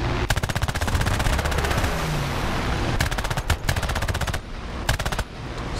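Bursts of machine gun fire from a Ki-10-I biplane in War Thunder, rapid evenly spaced shots in several long and short strings over a constant engine drone, loud and close.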